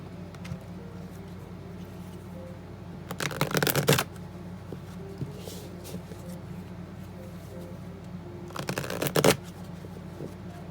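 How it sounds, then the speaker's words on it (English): Tarot cards are shuffled in two brisk riffling bursts, each about a second long, close and crisp, separated by a quiet stretch with light handling noise. "I'm going to shuffle and cut."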